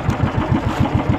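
A motorcycle engine chugs close by in a fast, even rhythm of low thumping pulses, heard alone.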